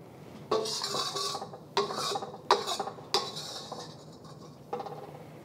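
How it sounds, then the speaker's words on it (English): A utensil scrapes and scoops chopped green onion and cilantro from a dish, five distinct close scraping strokes on the dish with short quiet gaps between them. "I'm just going to scoop the rest of the green onion and cilantro."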